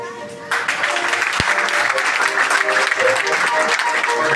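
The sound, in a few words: applause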